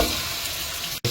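Meat tipped into a hot pan for a Pakistani aloo gosht curry sizzles steadily in a dense, even frying hiss, close and continuous, cutting out abruptly for an instant near the end.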